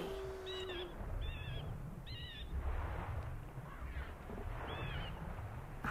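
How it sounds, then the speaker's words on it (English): A warbling, wavering bird call from Majora's Mask sounds several times at a moderate level, short trilled chirps spaced apart over a steady low rumbling ambience. "like that wiggly bird noise"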